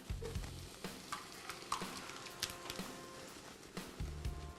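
An onion and egg frittata mixture sizzles in a frying pan while being stirred, a quiet, steady frying hiss broken by soft scraping and tapping of a utensil against the pan.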